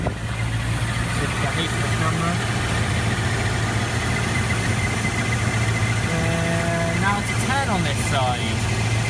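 A Rover SD1 V8 engine idles at around 800 rpm with a steady, close, low droning rumble throughout, while a voice briefly speaks over it near the end.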